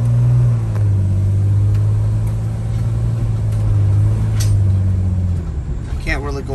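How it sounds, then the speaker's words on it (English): A 2008 Dodge Sprinter van in limp mode, with P0428 and P242F fault codes, pulls away with a steady low engine drone that fades near the end, while someone talks over it. "as I'm trying to actually accelerate this van right now for some reason, even though it's 3000 RPM"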